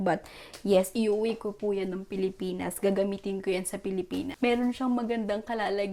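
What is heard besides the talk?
None of the usual background noises is heard.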